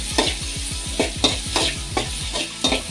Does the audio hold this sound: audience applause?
no